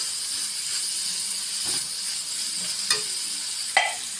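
A boiled fish mixture for rolls is stirred in a hot pan, giving a steady sizzling hiss with a few sharp scrapes and clinks of the spoon, close and without talk.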